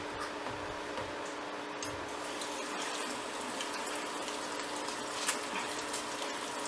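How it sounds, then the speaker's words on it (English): Hands being washed under a running kitchen tap after handling raw venison, a steady faint hiss of flowing water with light splashing, close and continuous, no talking. "Wash my hands."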